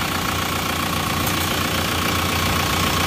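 A warmed-up engine with a freshly replaced cylinder liner runs close by with a steady, dense, knocking thrum that stays level and loud throughout.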